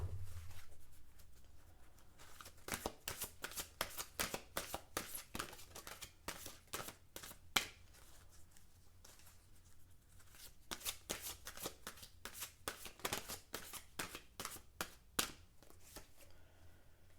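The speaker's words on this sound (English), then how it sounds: "Alright, so one more shuffle." Cards are shuffled close by in repeated riffling bursts, crisp rapid flutters separated by brief pauses, with no talking.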